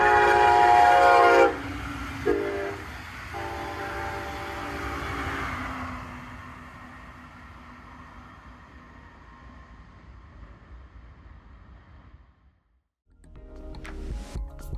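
A Brightline passenger train passes on the line between Suntree Boulevard and Viera Boulevard in Brevard County, Florida, sounding a loud horn blast at the start, then its rumbling roar fades away steadily before a quieter rumble returns near the end.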